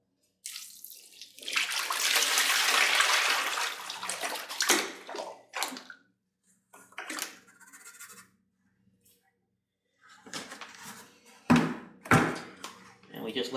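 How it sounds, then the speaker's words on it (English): Water gushes out of a bucket in a steady pour for a few seconds while processing wild clay, then splashes and knocks follow, with brief talking. "we're going to dump the rest of this bucket in that I've been dumping the water off of"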